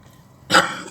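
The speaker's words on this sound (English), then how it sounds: "It's not the virus, it's just a cough." One short, sharp cough bursts out close by after a moment of near silence.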